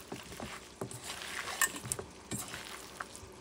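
A hand squishes and kneads meatball mixture of meat and egg in a bowl, soft wet squelches and pats at close range, quiet and irregular, with no talking.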